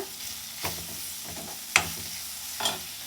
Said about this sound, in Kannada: ಅದು ಎಣ್ಣೆಯಲ್ಲಿ ಒಂಚೂರು ಫ್ರೈ ಆಗಬೇಕು ಚೆನ್ನಾಗಿ.